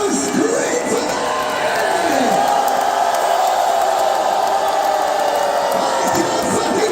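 Concert crowd in Minneapolis screaming and cheering, a loud sustained roar of shouts and whoops close around.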